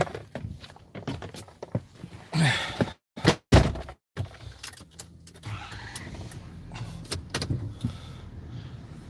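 A farm truck backs up outdoors: close cab and door thunks, a rattle and shifting movement, then a low engine rumble and crunching ground noise running steadily to the end, with no talk.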